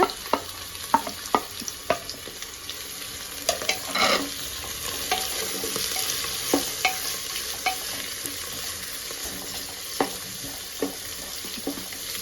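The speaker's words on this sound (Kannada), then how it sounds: "ಈಗ ಹೆಚ್ಚಿಟ್ಕೊಂಡಿರೋ ತರಕಾರಿಗಳನ್ನು ಸೇರಿಸಿ ಮೀಡಿಯಮ್ ಫ್ಲೇಮಲ್ಲಿ ಒಂದು ಐದು ನಿಮಿಷ ಬೇಯಿಸೋಣ" Chopped vegetables for veg pulao frying on a medium flame, a steady sizzle with repeated sharp scrapes and clicks of a spoon stirring against the pan, close and without voices.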